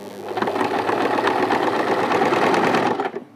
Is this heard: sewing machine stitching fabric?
yes